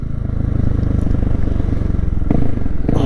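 A loud motorcycle exhaust throbs close by in a steady, rapid pulsing rumble, with a few scraping rattles toward the end.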